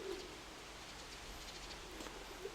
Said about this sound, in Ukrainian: кинув голубків, ну раненько кинув